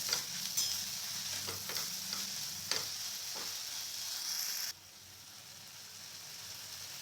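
A spoon scrapes and stirs potatoes with spices and sugar in a pan over a soft sizzle, then the scraping stops and a quieter hiss continues.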